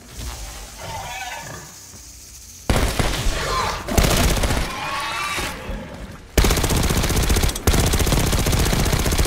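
Gunfire in the video game Pantheon comes as loud, rapid automatic bursts separated by brief quieter gaps, with a few faint creature-like sounds in between.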